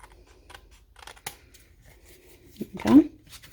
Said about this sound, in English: We can bring in some long shears and just give that a little tiny